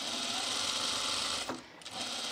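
Sewing machine stitching a seam on trousers, a steady fast mechanical whirr that runs continuously, then briefly stops and restarts near the end, close and fairly quiet with no talk.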